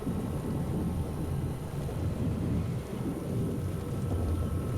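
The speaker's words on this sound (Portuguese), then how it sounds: "I await my storm." A thunderstorm conjured by a mage in The Witcher video game: a steady, loud roll of deep thunder rumbles continuously over a wash of falling rain, with no voices.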